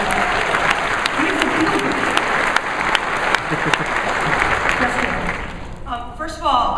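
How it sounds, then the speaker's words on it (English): Audience applause fills a conference hall at SXSW, a loud sustained crowd of clapping with crisp individual hand slaps, tapering off near the end as voices begin talking. "Let's clap for the people when they come up here."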